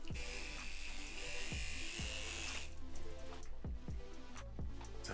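A cheap AliExpress tattoo machine, a fake Dan Kubin, buzzes steadily and close, a dense high-pitched electric whine that stops partway, leaving low thumping pulses and a fainter hum behind.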